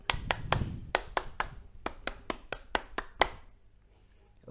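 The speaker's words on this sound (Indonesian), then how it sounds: "Tepuk Pramuka." A single person performs the Scout rhythmic clap (Tepuk Pramuka), a close, crisp sequence of about a dozen sharp claps in a patterned rhythm, grouped in short runs with brief pauses, then silence.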